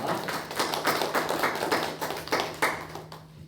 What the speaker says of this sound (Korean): 우리 모든 영광 우리 박수로 하나님께 올려드리겠습니다.